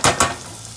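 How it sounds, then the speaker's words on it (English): Chopped onion hits a hot pan of melted fat for breakfast tostadas: two loud, quick sizzling bursts close by, then a fading hiss. "We're gonna go ahead and add our onion in. Toast that up."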